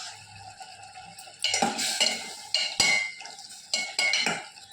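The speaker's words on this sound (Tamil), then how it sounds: "இப்போ அப்பப்போ கிண்டி விடணும்." Cauliflower gravy being stirred in a cooking pan, a spoon scraping and clinking against the metal in several short bursts with quiet gaps between, close and fairly soft, with no talking.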